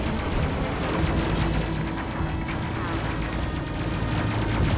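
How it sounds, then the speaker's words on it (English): Missiles firing in the space combat video game Space Crew, a loud, continuous barrage of rapid blasts and crackling explosions that runs dense and unbroken throughout. "There goes the missiles"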